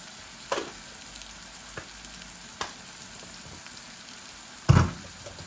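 Pumpkin flowers fry in a pan with a little tomato puree, giving a soft continuous sizzle broken by a few sharp clicks of the spoon against the pan, one louder knock near the end.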